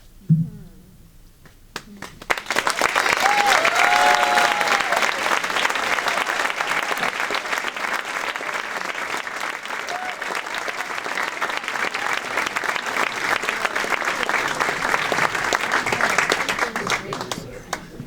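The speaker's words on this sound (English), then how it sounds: "Another round of applause." An audience at a Pechakucha Night in Burlington breaks into steady applause after a short quiet lead-in, with dense clapping holding evenly for about fifteen seconds and a few voices rising briefly near the start.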